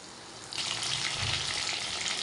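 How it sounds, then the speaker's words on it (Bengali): Food frying in white oil, a bright hissing sizzle that swells suddenly after a brief quieter start and then holds steady and close for the rest of the moment, with no talking. "চলো এক এক করে সব ভেজে নিই"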